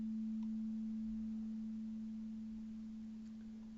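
A pure electronic sine tone, pitched at A3, hums alone at a steady, quiet level and fades slightly over a few seconds without changing pitch.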